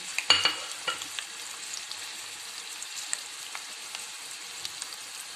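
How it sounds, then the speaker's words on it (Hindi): Onions fry in ghee in a pan with a soft, steady sizzle, broken by a few light scraping stirs near the start and occasional faint clicks, quiet and close with no talking. "और साथ ही प्याज डाल दूंगी, उनको सुनहरा कर दूंगी।"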